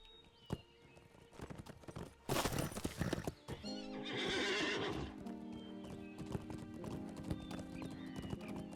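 Horse hooves clip-clopping and a loud neigh from a war steed in the online game Lord of the Rings Online, with scattered game effects and hoofbeats continuing after the whinny.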